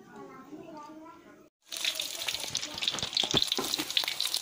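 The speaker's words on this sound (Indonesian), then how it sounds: "Ini otak-otaknya lagi digoreng guys" Otak-otak bandeng, milkfish cakes, frying in hot oil: a dense, steady crackling sizzle after a brief pause, close and fairly quiet, with someone speaking just before it starts.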